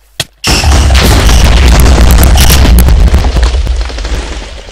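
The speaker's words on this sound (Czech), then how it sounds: "Prostě nekonečno výbuchů, teda samozřejmě se to opotřebovává" Repeated explosions in a modded Minecraft game, a short pop followed by a loud, sustained rumbling roar of blasts that continues with crackling texture throughout.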